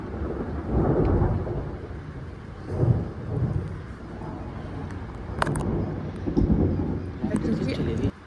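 Thunder rumbling during a night thunderstorm after a lightning flash, with rain falling throughout; low rolling booms swell and fade several times at moderate distance, and a person speaks quietly over it.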